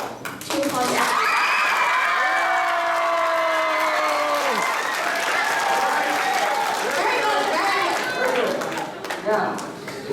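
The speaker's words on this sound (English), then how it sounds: "I'd like everyone who believes the defendant, Mr. Big B. Wolf, is innocent, to applaud" A theatre audience at a school musical courtroom scene claps steadily for several seconds, with scattered cheers and voices mixed into the sustained applause.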